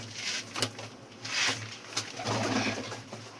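Pigeons coo softly in a few low, rounded bursts, with light rustling and outdoor background noise around them.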